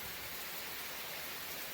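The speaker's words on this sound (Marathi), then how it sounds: "एकदम धुवाधार पाऊस आहे बघा." Dense, constant roar of heavy rain, a uniform hiss filling the air without breaks, fairly quiet overall and with no talking.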